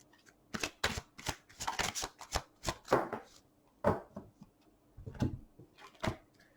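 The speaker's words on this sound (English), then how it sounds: "I'm just going to shuffle on the side here" Tarot cards are shuffled by hand close up in quick, irregular bursts of crisp riffling and slapping, each burst separated by brief pauses, with no voices.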